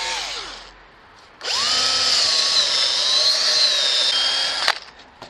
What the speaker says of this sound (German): Da bohren wir auch einmal vor.